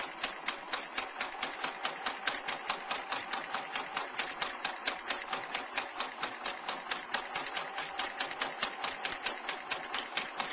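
Sewing machine stitching fabric slowly around the curve of a heart-shaped needlecase, a steady fast run of even mechanical ticks held close and continuous throughout.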